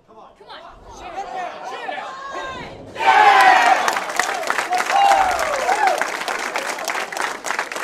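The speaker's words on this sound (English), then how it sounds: "Well, you hear the crowd." A bowling crowd at a junior stepladder final cheers and claps, starting with quieter murmuring before a sudden loud burst of applause and whoops that holds steady, with voices calling out amid the clapping.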